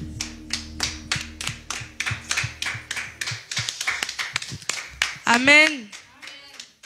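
A church congregation claps in acclamation at a worship service, with a steady, fairly quick rhythm of hand claps. It ends in a brief shout, and voices can be heard among the claps.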